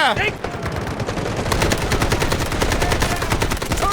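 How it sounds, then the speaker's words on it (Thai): Rapid automatic AK rifle fire in the shooter game Garena Delta Force, a dense, continuous stream of close, loud shots running almost the whole time with brief gaps. "ยิงอย่างเดียว ไม่ต้องเล็ง"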